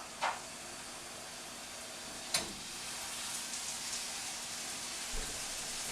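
Seasoned steaks hit a hot pan and sizzle in a steady, close hiss, with a few soft clunks as the meat is set down.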